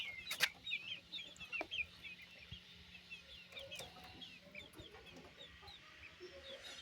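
Native backyard chickens, two roosters with four young chicks, cluck and peep softly in a quiet pen, a few sharper calls standing out early.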